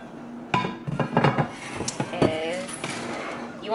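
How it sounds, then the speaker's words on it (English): Seasoning with paprika mixed in a bowl, a series of clinks, taps and scrapes of utensil on the dish, close and uneven, with a voice talking over part of it. "Then I'm adding my paprika. Let's give this a good mix."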